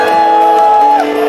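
Crowd of priests at a Catholic Mass shouting and cheering in welcome, a loud sustained mass of voices with whoops rising above a steady roar throughout.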